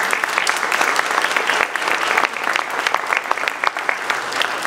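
A large audience at a city's State of the City address claps steadily and loudly as people exit, a dense, even wash of applause with a few sharper individual claps standing out.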